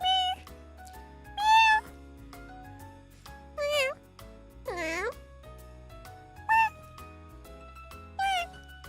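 A cat meows about six times at spaced intervals, each clear and close, over faint background music.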